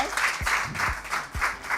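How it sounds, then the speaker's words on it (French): Audience applause for a spectator at a prize draw event, a brief burst of clapping with pulsing swells and low thumps, heard close with no clear talk. "on applaudit pour lui pour l'encourager"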